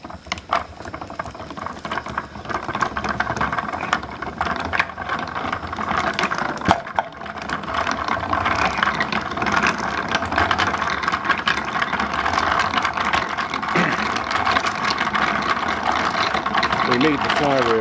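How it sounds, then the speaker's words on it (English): A flywheel engine driving a coffee grinder spins up toward 400 RPM, giving a steady, fairly loud mechanical churning with patter and rattle that stays level throughout, plus one sharp knock early on. "We need the flywheel doing 400 RPM. Takes a while to get up there."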